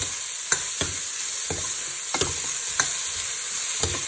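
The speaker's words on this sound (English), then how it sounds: "we have to saute it lightly. Again on a medium heat." Vegetables and chili sauteing lightly in a pan over medium heat, a steady soft sizzle broken by a handful of sharp spatula scrapes and stirs scattered through, close up with no talking.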